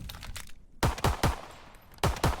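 Pistol shots from the Walther P38 in a Call of Duty game set in a Soviets-versus-Germany war, several sharp loud cracks in uneven succession with short echoing tails.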